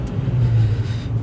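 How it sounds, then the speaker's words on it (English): Chevy Cruze with a failing turbo driven at full throttle, giving a loud, steady engine drone with a constant strained tone running underneath, heard up close with no voices. "Right now we have like a very loud whining noise coming from up front."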